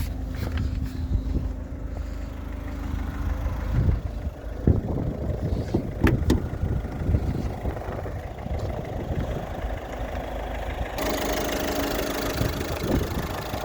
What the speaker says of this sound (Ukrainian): двигунчик просто працює ідеально. Тихесенько